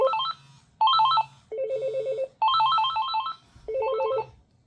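An AT&T cordless phone handset (E5900B or E2555 model) rings as the base pages it, giving five loud, close electronic ringtone bursts in a steady repeating pattern with short gaps between them.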